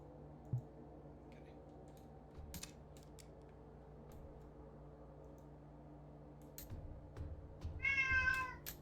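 Pet cat meowing close by near the end, one clear drawn-out meow after scattered clicks and soft movement noises over a quiet hum.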